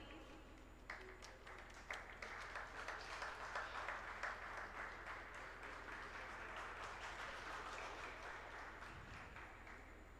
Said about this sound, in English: I request everyone to give a huge round of applause